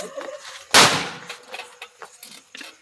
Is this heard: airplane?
no